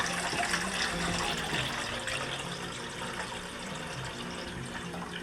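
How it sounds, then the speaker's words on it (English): Water poured into a pot while cooking noodle biryani, a continuous close gushing and splashing that stays steady throughout, with no voices over it. "Add water."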